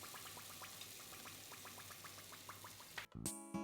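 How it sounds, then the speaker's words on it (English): Hot oil taken straight off the stove is poured through a strainer onto chili powder, giving a faint, steady bubbling and crackling sizzle that ends with a brief clatter. "I take the pot with the oil right from the heat of the stove and run it through my strainer over the chili"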